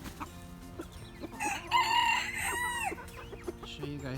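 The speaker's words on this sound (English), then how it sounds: "Some little chickies out here. And a little baby called duck." Young chicks and baby ducklings on a farm peep and cheep in a quick scatter of high, bright calls. A few louder, sweeping cries stand out in the middle, close by, with no voices.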